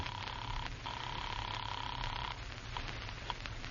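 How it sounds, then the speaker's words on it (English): Telephone dialing effect in a vintage radio mystery drama: two steady tones sound briefly, break for a moment, then return for over a second over a low background hum, with a few faint clicks afterward. "You leave Black's car in a side street, take a taxi downtown, and make a phone call"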